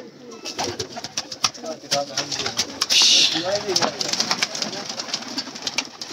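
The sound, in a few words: pigeons cooing on a rooftop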